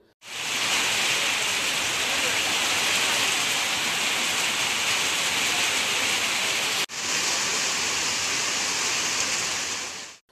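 Steady heavy rainfall pours down in Theni district in an even, loud hiss, broken only by one sharp momentary cut before it continues unchanged.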